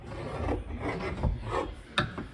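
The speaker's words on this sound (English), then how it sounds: "Just rubbing it where the lead is dull to a higher" Dull lead on leaded light joints is rubbed to a higher polish, giving a continuous close dry rasping and scrubbing with uneven strokes and a brief sharper scrape near the end.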